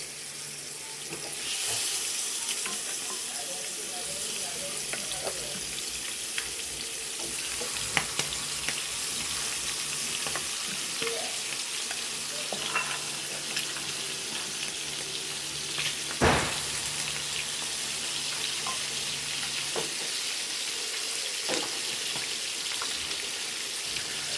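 Mackerel frying in a pan of hot oil, a steady broad sizzle and crackle running throughout with occasional sharper pops and spatters, close by and with no talking.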